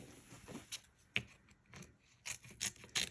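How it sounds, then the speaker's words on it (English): Scissors trim fabric during machine embroidery of an in-the-hoop dome holder, with a few short, faint snips and rustles spread across a quiet moment, alone without talk. "And I'm just going to trim it"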